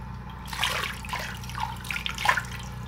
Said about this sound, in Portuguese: E eu vou lavar, vou enxaguar todas aqui